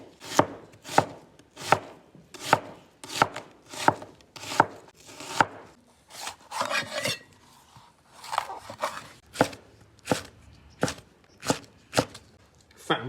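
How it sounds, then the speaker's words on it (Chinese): A knife chops an onion on a board in a home kitchen, with steady, evenly spaced cuts close by that pause briefly midway and then resume at the same brisk pace. "切个配菜，先来点洋葱。"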